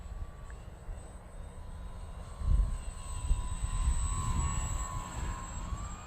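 A Dynam P-51D Mustang V2 RC plane on a 2200 mAh 3S battery flies with a steady electric motor whine, faint at first and then a louder pass overhead, with a rumble of wind. No one talks.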